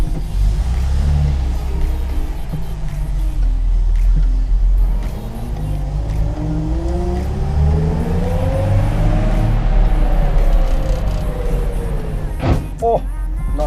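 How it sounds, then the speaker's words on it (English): A historic racing car's engine drones loudly and steadily from inside the cabin, its pitch sweeping up and down as it pulls away, with a voice talking over it. "driving a historic car like this"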